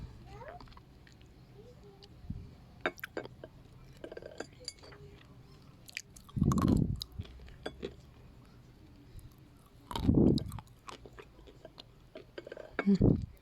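Close crunching bursts of brittle white Bashkir edible clay being chewed, three loud bouts separated by quieter clinks and small clicks.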